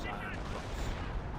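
Dense rumbling barrage of on-map artillery fire in the real-time strategy game Company of Heroes, a continuous loud roar of overlapping blasts with a commentator's voice faintly mixed in.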